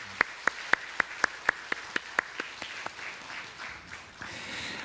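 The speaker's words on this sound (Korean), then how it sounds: "예, 박수 한번 주세요." A church congregation at a Sunday service begins with a few sharp, evenly spaced single claps. The claps then fade into a soft, diffuse ripple of applause.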